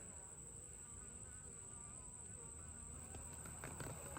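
Honey bees from an agitated hive during a varroa mite inspection, a steady, dense insect buzz that stays faint and continuous, with some brief scraping or handling noises near the end.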